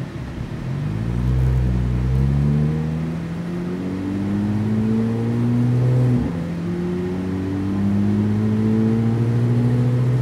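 A car pulls away and accelerates through several gears on a road during a driving lesson, loud and close from inside the cabin, engine pitch rising in repeated climbs with a shift dip midway.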